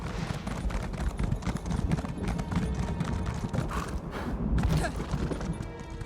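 A horse galloping in the Elder Scrolls Online game, with rapid clip-clopping hooves and creaking tack running continuously at close range amid game ambience.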